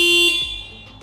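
Yamaha Fascino/RayZr Hybrid scooter horn triggered remotely by the Bluetooth answer-back feature: one short, loud, close tonal honk that cuts off and fades within about a second, heard alone.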